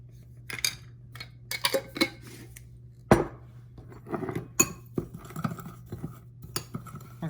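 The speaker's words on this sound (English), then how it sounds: "We're going to mix it all up again." A spoon stirs dry dip mix ingredients in a bowl, giving irregular clinks and scrapes that are fairly quiet and close, with one sharper knock midway.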